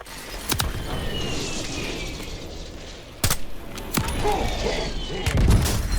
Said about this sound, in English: 1-3-1 is on station. Strike inbound.